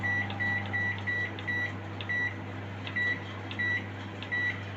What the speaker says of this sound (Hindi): मेरे पास माइक्रोवेव है, मैं इंशाल्लाह ताला उसमें रखती हूँ।